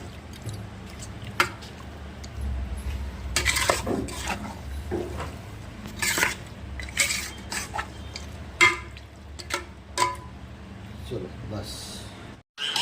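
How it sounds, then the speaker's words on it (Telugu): Chicken curry with turmeric is stirred in a pan, with irregular clanks and scrapes of a spoon against metal and soft wet squishing. A voice talks over the stirring. "చాలే కొంచెం పసుపు వేసుకొని కలుపుకోవాలి."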